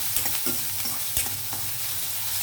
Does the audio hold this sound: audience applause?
no